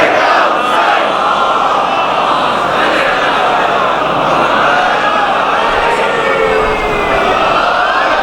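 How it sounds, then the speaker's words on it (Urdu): A large crowd at a Muharram majlis loudly recites salawat in unison. The massed voices form a dense, sustained roar that carries through the whole stretch. "بلندتر صلوات۔"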